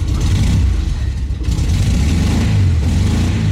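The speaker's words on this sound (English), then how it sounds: "Doesn't sound like it's running on all cylinders yet." A Volkswagen Beetle Type 3 engine with a recently flooded, dry-carburetor condition runs rough and not on all cylinders, a loud close continuous uneven rumble with slight wavering.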